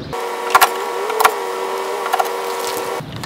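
A power driver backs out oval-drive screws while a wooden shed is being demolished. The motor gives a steady whirring whine for about three seconds, with a few sharp clicks along the way, then stops abruptly.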